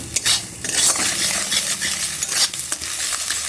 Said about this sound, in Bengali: একটু নুন হলুদ দিয়ে দিয়েছি, দিয়ে ঝুরি ভাজি করে নেব।